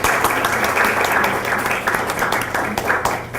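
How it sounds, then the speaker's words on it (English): An audience applauds at an oral history project presentation, with dense, steady clapping filling the whole short clip. "So let's give them an applause."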